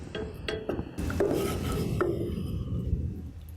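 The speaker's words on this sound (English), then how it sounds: "Stir it occasionally" Scraping and clinking of a utensil stirring thick Balinese peanut paste with water in a pan, a few sharp knocks against the metal, steady and close with no talking.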